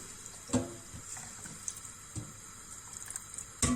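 Water runs from a tap into a pot of vegetables for a lettuce cream soup, about one litre added, with splashing bursts and drips close by and no talk.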